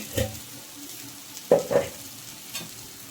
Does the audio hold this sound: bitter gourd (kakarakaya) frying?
yes